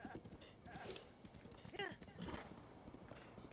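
A horse gallops in Zelda Breath of the Wild, rhythmic clip-clop hoofbeats at a steady pace with a brief whinny, faint and under a speaking voice.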